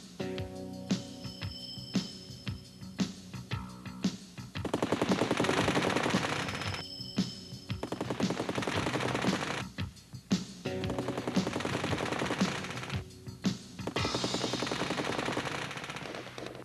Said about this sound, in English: the 6 machine guns of the Sabre